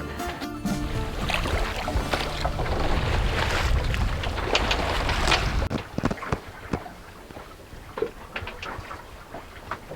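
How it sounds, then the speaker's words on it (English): A sailboat under way at night in very light wind on the sail to Santorini, with a steady rushing wash of water and wind noise, then quieter lapping with scattered knocks and creaks. "set sail on a long sail through the night with very light wind to Santorini"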